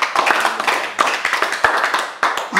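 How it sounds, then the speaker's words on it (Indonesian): A church congregation claps for Jesus during a sermon, with brisk, steady, close applause made of many overlapping hand claps that continues throughout. "Berikan sorak-sorai buat Yesus."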